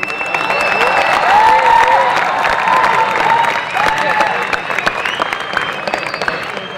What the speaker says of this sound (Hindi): कृपया तालियों के बीच में स्वागत कीजिए श्री रमेश मुस्कान जी का